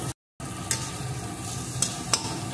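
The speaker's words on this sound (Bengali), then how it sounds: "এখন একটু নাড়িয়ে নেব।" A masoor dal and egg curry is stirred in a frying pan, and the sizzle runs steady and close, with a few sharp scraping clicks from the spoon and a brief gap near the start.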